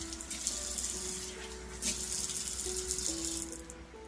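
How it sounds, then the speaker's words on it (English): A tap runs under quiet household noise while hands are washed beneath it, a faint steady splash with small rattles and occasional brighter bursts as the water hits the hands. "let me actually wash my hand before I do that dough"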